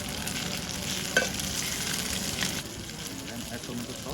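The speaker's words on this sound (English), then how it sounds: "Mix well the pasta with the spoon." Pasta stirred with a spoon in a pot, with a soft scraping swirl over a continuous sizzling, bubbling background and one brief clink, close and fairly loud, with faint voices in the room.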